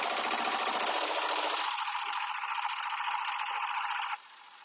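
A Janome Continental M7 sewing machine stitches free-motion at high speed in a steady, loud, even whir. The pitch steps up partway through, and the stitching stops abruptly near the end, leaving a quieter hum.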